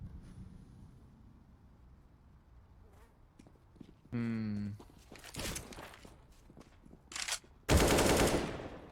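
Gunfire in a Counter-Strike match, with a rapid burst of automatic shots midway followed by several loud single and clustered gunshots, heavy and close, over a faint background of game ambience.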